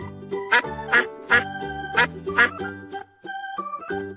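A duck quacks in a series of short, loud, evenly spaced calls, with bright tonal game-style notes trailing after them, from a children's farm-animal learning game.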